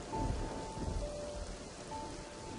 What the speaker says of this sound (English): I love listening to the sound of rain, even though it doesn't really help much when recording.